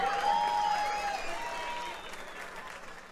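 Applause from a comedy show audience in Bogotá, a dense steady wash of clapping that stays loud and fades slightly toward the end, with a faint whistle-like tone near the start.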